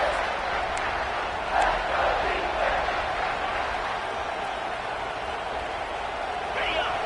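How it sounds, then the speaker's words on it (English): A packed football stadium crowd roars at fever pitch during a third-down red-zone play, a dense, sustained wall of cheering and shouting that holds steady throughout. "this crowd is at fever pitch"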